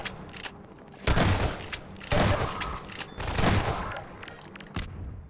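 Shotgun blasts in the video game Half-Life 2: Lost Coast, three loud booming discharges spaced about a second apart over a steady background bed.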